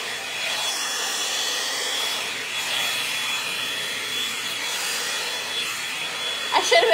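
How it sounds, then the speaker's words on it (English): Hair dryer blowing steadily on hair up close, a continuous airy whoosh with a faint rattle near the end. "I should have been blow drying that whole time"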